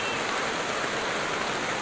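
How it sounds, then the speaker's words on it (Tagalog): Steady rain pours down in a dense, even hiss of drops hitting surfaces, constant and moderately loud for the full short stretch with no voices. "kasi ngayon lang umulan dito"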